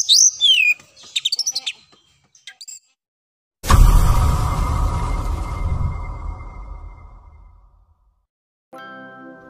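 Bright, whistling oriental magpie-robin song with quick chirps and trills at first, then a loud crash with rattling noise from its falling cage that fades out, followed by a short ringing tone.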